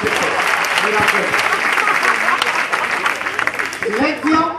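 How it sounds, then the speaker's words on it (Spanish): Loud, dense audience applause at a live mentalist and comedy show, steady clapping from a full room lasting several seconds without talk. "¡Un aplauso!"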